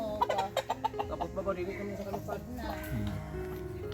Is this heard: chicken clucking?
yes